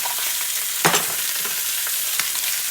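Garlic fries in a pan under a steady loud sizzle, with a couple of sharp utensil knocks against the pan breaking through the hiss.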